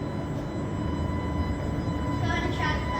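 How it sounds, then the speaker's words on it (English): An Island Line train pulls out of Sandown station on the Isle of Wight, a steady low rumble and hum of the departing train that swells slightly toward the end. "Watch the train leave."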